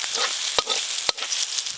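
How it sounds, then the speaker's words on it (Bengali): Snake gourd pieces fry in hot oil in a pan, a close, bright sizzle broken by two sharp scrapes of a spatula stirring them. "চিচিঙাগুলো সুন্দর ভাজা ভাজা হচ্ছে।"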